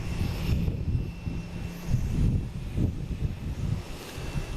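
An Avianca airliner roars overhead in a broad, rushing drone that swells and fades with wind buffeting the microphone, steady and fairly loud with no voices.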